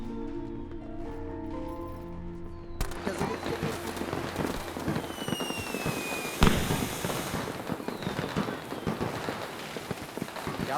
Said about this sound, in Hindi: मुझे भी वैसे पटाखे चाहिए